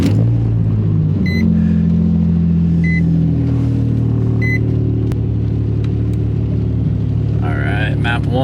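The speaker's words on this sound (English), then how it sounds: "Let's get this cold car started" A cold Nissan 350Z fitted with a turbo kit cranks and fires up, then settles into a loud, steady, rumbling idle nearby, with short beeps early on and a voice in the background.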